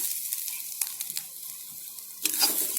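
Grated coconut and curry leaves frying in a pan for arachuvitta white pumpkin sambar, a soft steady sizzle with a few sharper crackles and a spatula scrape, close and without talk.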